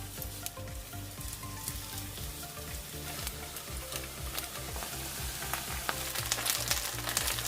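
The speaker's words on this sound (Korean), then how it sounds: "예열된 팬에 식용유를 넉넉히 두르고 고기가 서로 붙지 않게 놓고 중불에서 노릇하게 구워줍니다." Pork neck pieces coated in potato starch crackling in generous oil in a preheated pan over medium heat, a dense steady sizzle with fine popping, fairly quiet and close.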